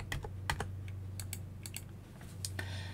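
Keys tapped on a computer keyboard to enter a value in Adobe Illustrator 2020, a handful of quick clicks in short bursts with brief pauses, close and clear over a low hum.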